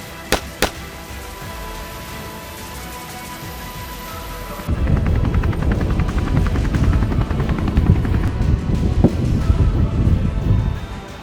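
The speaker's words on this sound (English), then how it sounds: "practicing acquiring targets in a moving helicopter." A military helicopter flies over the sea, first a fainter steady hum with a couple of sharp knocks, then a sudden loud, close rotor roar with rapid chopping that dominates the rest.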